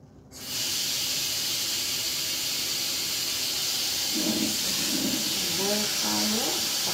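Steady loud hiss of water boiling hard in a pot used for cleaning off stubborn oil, continuous and close, with a few faint voice-like tones near the end.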